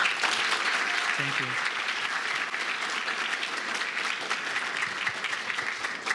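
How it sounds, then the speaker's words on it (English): An audience claps loudly and steadily throughout, and a voice briefly speaks over the applause. "Let's give a warm applause"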